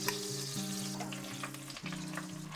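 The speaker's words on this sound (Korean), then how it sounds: "먼저 된장을 기름에다 튀기듯이 볶아줄게." Doenjang soybean paste stir-fried in about seven tablespoons of cooking oil gives off a steady, close sizzle that holds loud and even throughout, with some faint tonal hum running underneath.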